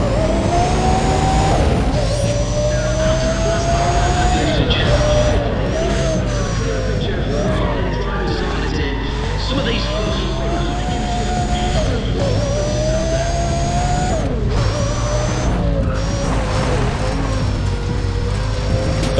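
A racing car's engine in Need for Speed: ProStreet revs and accelerates steadily through corners, a continuous loud mid-pitched drone with rising and falling pitch sweeps, while someone talks over it.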